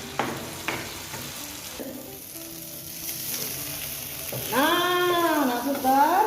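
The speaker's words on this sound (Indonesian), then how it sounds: "Kita aduk ya anak suster." Fried rice with tomato being stirred in a frying pan, a steady close sizzle with scraping and stirring strokes, alone with no talk.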